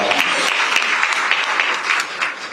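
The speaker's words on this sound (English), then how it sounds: "Please give a round of applause to our sponsors." Audience at a PAC brunch applauds its sponsors, with steady, dense clapping that continues without a break for the whole stretch and no voices on top.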